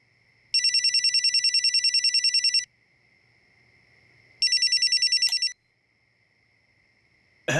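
A telephone rings for an incoming call late at night, two bursts of rapid electronic bell trills, the first about two seconds long and the second shorter, with a quiet pause between and no talking.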